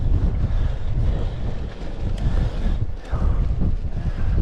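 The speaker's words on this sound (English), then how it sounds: "into the headwind now." Strong headwind buffeting a cyclist on a country road, loud continuous low roaring gusts that rise and dip briefly, with no speech.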